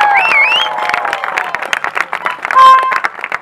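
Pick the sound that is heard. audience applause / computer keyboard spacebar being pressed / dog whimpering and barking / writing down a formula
audience applause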